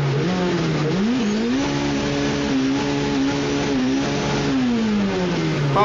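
A car engine held at full throttle while drifting on a mountain road, a loud sustained rev whose pitch rises, wavers and holds high before easing down, with faint tire noise beneath.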